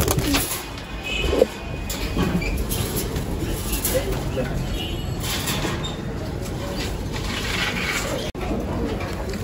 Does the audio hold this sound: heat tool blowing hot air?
no